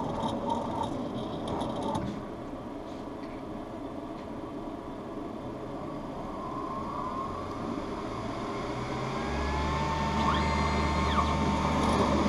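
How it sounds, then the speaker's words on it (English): An optical lens edging machine measures and cuts a bevel into an eyeglass lens, giving a steady mechanical whirring and rattling grind with faint high whines, growing a little louder and deeper near the end. "it's going to measure one more time to know exactly where to cut the bevel into the lens."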